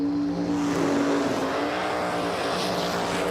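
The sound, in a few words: Top Dragster race cars at drag strip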